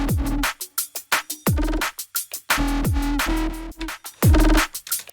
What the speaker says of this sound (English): Like everything's just been squashed like a tremendous amount.